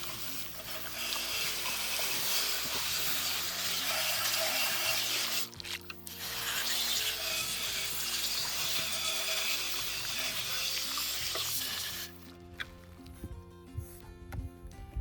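Running water splashes and rushes over a fabric cyclone filter from an xTool AP2 air purifier as suds are rinsed out outdoors, a steady close wash that briefly pauses midway and drops off near the end.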